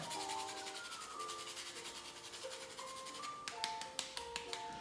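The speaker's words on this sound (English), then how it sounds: "generous grate of nutmeg all over that" Nutmeg grated over food makes quiet, dry rasping strokes against a steady melodic tone, ending in a few sharper scraping taps.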